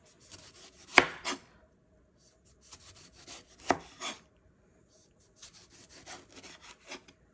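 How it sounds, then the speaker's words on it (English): A knife slices through tofu on a cutting board in a kitchen, giving a few soft separate cuts with short scraping strokes, quiet and close, with pauses between. "now I've got to get another slice going here"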